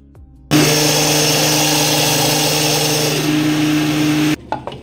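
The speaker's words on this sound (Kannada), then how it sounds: "ಈಗ ಇದಕ್ಕೊಂದು ಸ್ವಲ್ಪ ನೀರನ್ನು ಆ್ಯಡ್ ಮಾಡಿ ಗ್ರೈಂಡ್ ಮಾಡಿಕೊಂಡ್ರೆ ಚಟ್ನಿ ರೆಡಿ ಆಗುತ್ತೆ" An electric mixer grinder whirs steadily, blending chutney ingredients with added water into a smooth paste. Its loud, continuous motor drone runs for about four seconds with a slight pitch drop partway, then cuts off abruptly.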